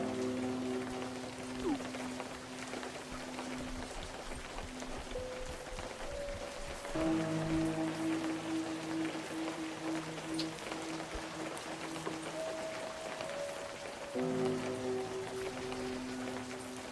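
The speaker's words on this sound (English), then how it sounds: "Back to the rain." Steady rain patters outdoors during a fishing outing, a soft continuous hiss of drops on surfaces with faint low droning tones running beneath it throughout.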